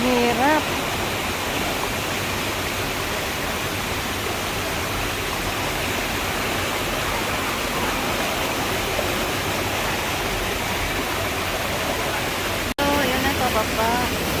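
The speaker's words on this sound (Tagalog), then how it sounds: "dyan papunta daloy ng tubig" A stream flows along a river in Bohol Province, a loud, steady rushing of water that fills the whole clip, with a brief voice at the start and again near the end.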